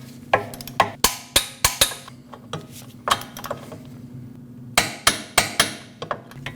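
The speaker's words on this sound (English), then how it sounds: "Torque those down at 70 foot-pounds." Torque wrench tightening the rear knuckle bolts on a 2014-2023 Jeep Cherokee to 70 foot-pounds, a close series of sharp metallic clicks in quick clusters with pauses between, no voices.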